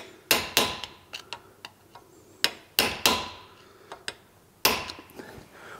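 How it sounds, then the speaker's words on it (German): A screwdriver used as a chisel is hammered to bend open a slot on a Vespa scooter part, giving sharp metallic strikes at an uneven pace, several hard blows among lighter taps, close and alone. "nehme ich zuerst einen scharfen Meissel, um es aufzubeugen"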